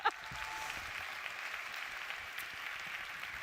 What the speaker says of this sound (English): give them one more round of applause because that was incredible